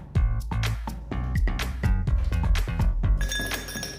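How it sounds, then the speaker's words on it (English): Fresh ice cubes dropping and clinking into a row of cocktail glasses, a rapid series of sharp, bright clinks and rattles repeating close up, with a brief higher ringing tail at the end. "Now fill all the glasses with fresh ice cubes."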